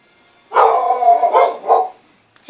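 Dogs bark and yip in a short burst of several close, loud calls, ending abruptly.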